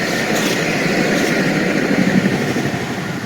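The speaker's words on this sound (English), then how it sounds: "Oh, look, a train." Train rolling past close to the tracks, a loud, continuous broadband rumble and rush that holds steady throughout with no voices.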